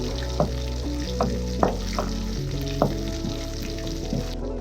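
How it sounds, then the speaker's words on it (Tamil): Ingredients sautéing in oil in a pan for a roadside-style empty salna paste, a continuous close sizzle punctuated by several sharp spoon clinks and scrapes against the pan at irregular intervals, with no voices. "இன்னும் எண்ணெயில் போட்டு நம்ம நல்லா வதக்கிக்கலாம்"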